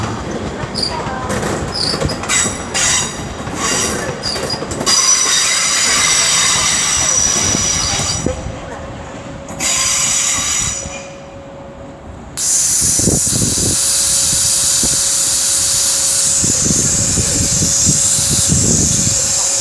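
An Avanti West Coast service from Manchester Piccadilly pulls into London Euston on the West Coast Main Line, loud and close, with a steady hum, rail hiss and intermittent clicks and wheel squeal that ease mid-way before the noise swells again.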